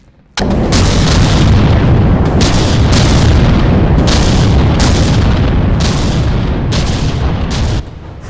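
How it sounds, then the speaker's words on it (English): Battleship guns in the video game From the Depths fire in a rapid, loud barrage, heavy booms landing about every half second over a continuous rumbling roar that lasts until near the end. "I think we've started opening fire."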